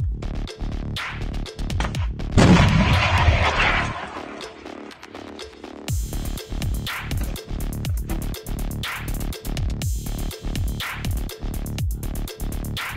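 A Stugna-P anti-tank missile fires in combat near Izium, a sudden loud rushing blast that fades over about two seconds amid a steady run of sharp rapid clicks.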